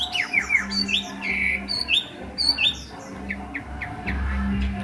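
A tame Chinese hwamei songbird kept for sale sings close up in a run of sharp, rising whistles and squawky chirps, repeated in quick bursts over a steady low hum.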